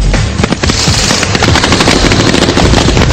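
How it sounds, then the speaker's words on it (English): Dense, very loud automatic gunfire from a patrol firing on an enemy, rapid overlapping bursts and cracks in an unbroken volley at close range. "He will immediately put fire down."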